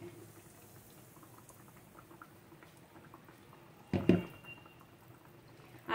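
A coated chicken fillet drops into hot oil in a kadhai on medium heat, bursting into a loud sizzle after a quiet stretch of low bubbling, then settling into a steady fry.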